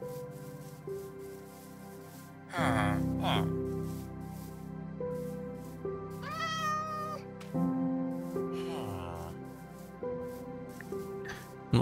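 A Minecraft cat meows a couple of times, short, clear cries rising over steady ambient game music and background sound.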